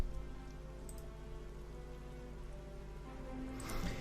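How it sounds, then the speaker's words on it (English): Steady rain falls in the wartime strategy game Strategic Mind: Blitzkrieg, a dense, even hiss running unbroken for the whole stretch with no voices over it. "Rain, huh?"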